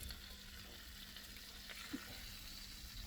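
Egg frying in butter in a pan, a faint, steady sizzle that continues throughout with a couple of small clicks near the end and no voices.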